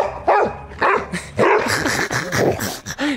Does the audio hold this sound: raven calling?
no